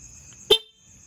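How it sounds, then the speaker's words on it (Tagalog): A vehicle horn, just wired through a domino switch, gives a single short honk close by, sharp and loud against quiet background hum. "Ang ginamit natin yung normal, yung horn nya ito."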